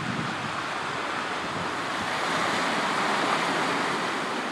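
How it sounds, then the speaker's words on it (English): Sea waves wash onto a Welsh beach at night, a continuous, even roar of surf with soft wind noise and no talking. "There's the sea."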